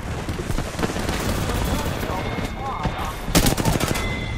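Automatic gunfire rattles in an Apex Legends match, dense bursts of shots under and between voices, with a sharper loud volley near the end.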